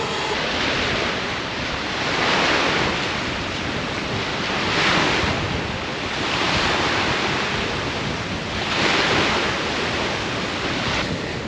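Strong wind gusting beside a loch at Kenmore, a loud roaring rush that swells and eases in slow waves and buffets the microphone constantly.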